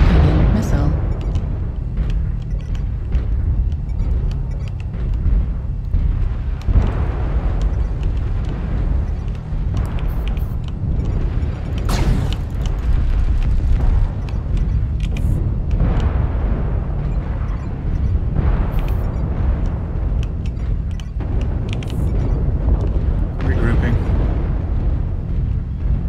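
Continuous heavy rumbling and repeated explosive bursts fill a MechWarrior battle, missile impacts thudding at irregular intervals over a constant low roar for the full stretch, with voices talking over the din.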